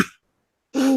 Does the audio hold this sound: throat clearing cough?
yes